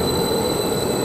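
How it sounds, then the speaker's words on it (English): At Ely station, the Norwich to Stansted Airport train arrives with a steady, loud rumble and a high wheel squeal held throughout, close by, with no voices. "Now we've got another train coming, which is the Norwich to Stansted Airport."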